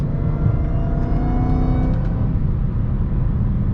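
A 2020 Dodge Charger Hellcat Widebody engine revs hard and accelerates, its loud, close, continuous roar rising through the gears with a shift near the middle, then holding a dense steady drone.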